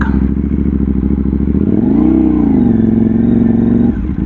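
A KTM Duke 790 motorcycle rides through a tight turning-radius check, its engine note loud and steady, rising in pitch and then holding an even drone, close up with no talk.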